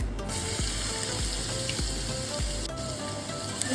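Cumin, asafoetida and ginger-garlic paste crackle in hot oil for Punjabi chole, a loud, dense, continuous sizzle close by with faint stirring scrapes underneath.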